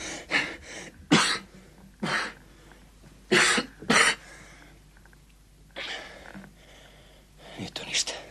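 A tired man who smokes heavily coughs in several sharp, close bursts spaced a second or two apart, with throat clearing and breathy gasps between them.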